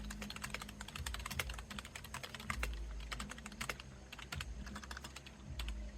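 Fast typing on a GEODMAER 65% wireless gaming keyboard, dense close clacking keystrokes in quick irregular bursts with brief pauses, with no talking.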